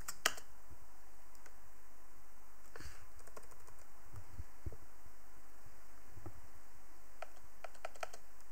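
Keys clatter on a computer keyboard while entering an Emacs key combination, sparse faint clicks spread over a steady electrical hum.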